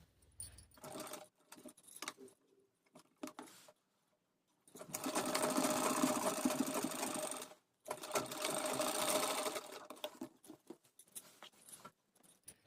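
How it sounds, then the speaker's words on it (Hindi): A sewing machine stitches the shoulder seam of a blouse near the neckline. Short bursts and handling clicks come first, followed by two longer continuous runs of close, rattling stitching separated by a brief pause, then a few more light clicks. "गले के पास इधर शोल्डर से स्टार्ट करूँगी और इस गले के पास से सिलाई करके निकाल दूँगी"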